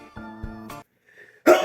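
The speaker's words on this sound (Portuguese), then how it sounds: "Espirrei, gente, foi mal aí" A single sharp sneeze from a person bursts out at the very end, loud and close, following a short stretch of voiced sound and a brief quiet gap.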